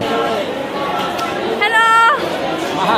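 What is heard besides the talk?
crowd of people chattering at a metro rail station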